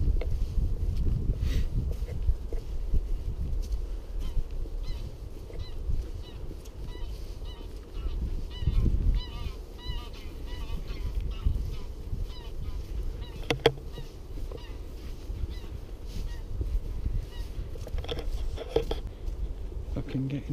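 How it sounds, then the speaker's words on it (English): Geese honking outdoors at a moderate distance, with scattered calls over a steady low rumble of wind and handling noise, and a brief voice now and then. "Gooses."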